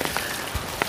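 Steady rain falls in a forest, a dense continuous hiss with a few louder drops standing out.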